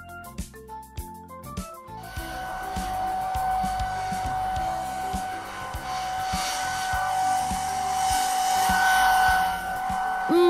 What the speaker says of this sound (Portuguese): Eu vou tentar um secador de cabelo.